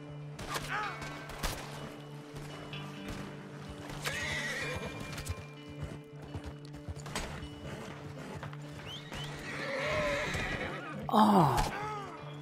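A horse in Red Dead Redemption, a piebald tobiano Hungarian Halfbred, whinnies several times over steady clip-clopping hooves, with a few knocks and a louder burst near the end.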